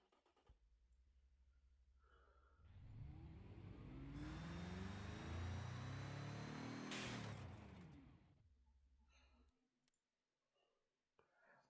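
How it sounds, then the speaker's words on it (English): Engine of a V16 car in a video game revving, rising from a low idle into a loud, sustained roar lasting several seconds before cutting off abruptly to near silence. "Let's listen to my V16 big boy."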